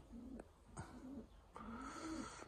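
Pigeons kept for breeding coo softly inside a flyers' loft, low rolling calls repeating several times close by and faint against a quiet background.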